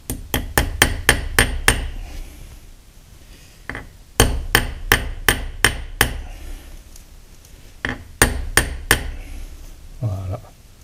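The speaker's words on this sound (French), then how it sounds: "j'ai utilisé un marteau standard, comme il n'y avait pas beaucoup à frapper" Sharp metallic strikes from a standard hammer tapping a part into a milling-machine dividing head, coming in quick rhythmic bursts of about eight blows each, with pauses between the bursts, close and loud.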